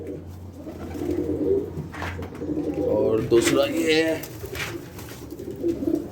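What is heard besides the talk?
pigeons cooing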